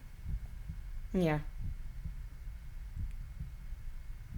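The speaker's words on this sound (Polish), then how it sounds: "Ale słychać bicie serca w tle w ogóle." A low, steady heartbeat thumps at an even pulse under a faint hum in a creepy film, with a brief spoken word cutting in partway through.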